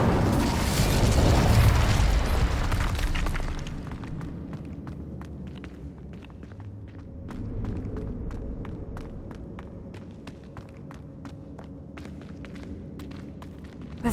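In the video game Hogwarts Legacy, the Incendio fire spell erupts in a loud, roaring blast that lasts a few seconds. It then dies down into a quieter rumble with scattered clicks and footstep-like taps.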